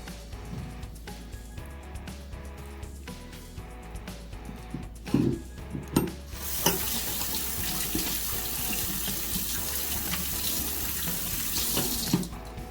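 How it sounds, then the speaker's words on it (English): Water from a bathroom sink tap runs as someone rinses their face, first faint under soft handling sounds, then a louder, steady rushing stream for the last half with occasional splashes. "you just rinse it"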